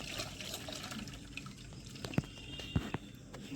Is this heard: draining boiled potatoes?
yes